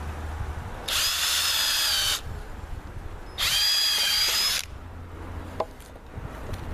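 A power drill boring a 1/4 inch pilot hole in wood for a T trellis, two steady whining runs of about a second each, close and loud, separated by a brief pause.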